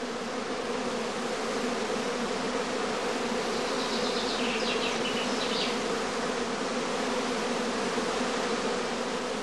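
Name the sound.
honeybee swarm buzzing at the hive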